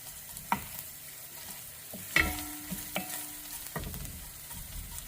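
Garlic and tomato paste sauteing in a pan for a homemade marinara sauce, with quiet background sizzle broken by scattered spoon scrapes and clinks as the mixture is stirred.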